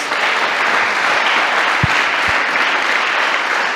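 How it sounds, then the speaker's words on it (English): An audience applauds graduating students who completed a five-year certification at a Sunday gathering; dense, steady clapping fills the whole stretch at full strength, with a couple of low thumps partway through. "let's give them a big round of applause"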